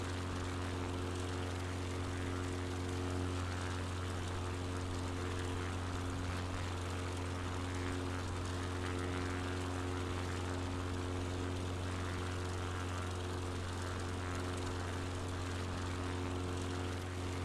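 A propeller airplane engine roars at full throttle in a flight simulator game, a steady, loud, unbroken drone with a constant low hum and no change in pitch across the whole stretch, no voices.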